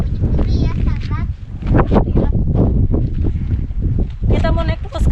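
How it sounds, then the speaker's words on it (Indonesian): Strong, cold wind on a hilltop near a village buffets the microphone with a loud, continuous low roar while people talk over it throughout. "Mohon maaf kalau ada suara angin, karena di sini posisinya sangat dingin dan anginnya lumayan sedikit kencang."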